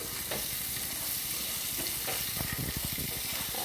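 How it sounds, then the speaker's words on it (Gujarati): Peanuts stir-fry in a pan for a peanut and chickpea pickle, giving a continuous bright sizzle. Toward the end the nuts rattle and tick quickly as they are tossed, close and steady throughout. "એને થોડાક સ્ટર ફ્રાય કરવાના છે"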